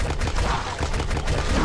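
A weapon in the mobile zombie shooter Dead Trigger 2 fires a fast burst of shots. The rapid cracks run together into a loud, continuous rattle that lasts under two seconds.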